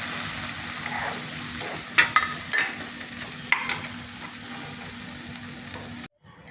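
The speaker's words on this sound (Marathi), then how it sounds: "कांदा टमाटा आपण भाजून घेतला आहे।" Onion, tomato, ginger and garlic fry in a pan for a hotel-style mushroom masala, giving a steady broadband sizzle with a few sharp spatula scrapes and clicks midway before it cuts off abruptly at the end.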